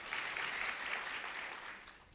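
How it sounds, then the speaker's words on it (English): Audience clapping for the governor of Mandera at a gathering of newly recruited ECDE teachers, a steady dense wash of applause that holds for about two seconds and tapers slightly at the end. "Just clap for this, our governor."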